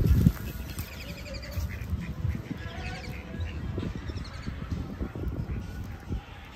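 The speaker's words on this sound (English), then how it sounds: "Look, the ducks are coming this way now." Ducks quack repeatedly at a moderate distance over a noisy outdoor background, with scattered calls overlapping one another.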